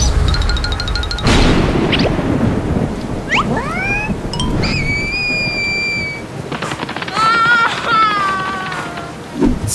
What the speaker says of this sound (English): We should find shelter from the rain.